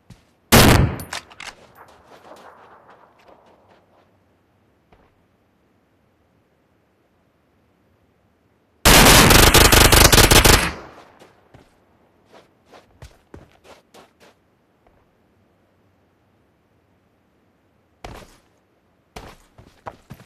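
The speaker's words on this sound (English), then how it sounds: "I was the one shooting at you still." Video-game gunfire: a sharp burst at the start, then a loud, sustained automatic volley midway, with scattered footsteps and clicks in the quiet between.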